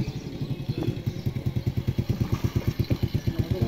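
A motorcycle engine idles close by with a fast, even, thumping putter, each beat clearly spaced, sounding much like a small boat motor chugging steadily.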